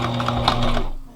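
A sewing machine briefly back stitches on a scrappy fabric bag, a short loud whirring run that fades out after about a second.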